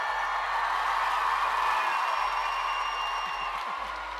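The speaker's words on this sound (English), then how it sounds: "So give a big roar right now for all these ponies." A crowd at the 2013 WIHS Shetland pony race roars and cheers in a steady, loud, continuous wash of noise that holds for several seconds without a break.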